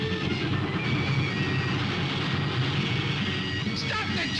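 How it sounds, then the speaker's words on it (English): A train rumbles past in a steady, fairly loud wash of rolling noise with a faint whistle-like tone near the end, heard in a 1945 film scene. "Stop the train!"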